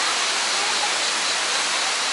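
The Dim Chay mountain river near Alanya, Turkey, heard right beside the water, produces a constant hissing, splashing rush that is loud, close and unbroken, with no voices.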